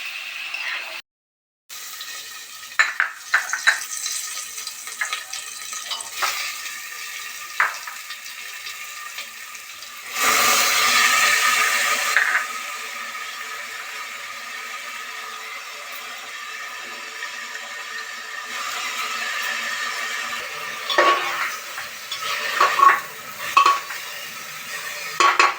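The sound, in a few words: washed rice frying and being stirred in a pan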